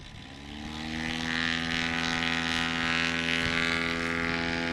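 A STOL propeller aircraft runs its engine up to full throttle with flaps down for a short takeoff at Ontario Municipal Airport, a loud, steady, close prop drone rich in harmonics that swells and holds without any talk.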